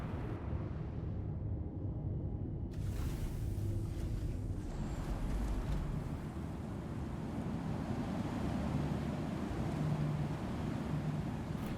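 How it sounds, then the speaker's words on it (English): Strong, gusty wind buffeting a small craft in the video game Star Citizen, a continuous roaring rush that swells and eases with big gusts, loud and close, with no talking. "Very windy here and gusty"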